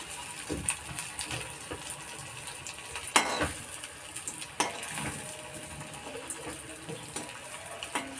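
Suji potato cutlets fry in hot oil with a soft, steady crackle and bubbling, broken by a few sharper pops and clatters close by.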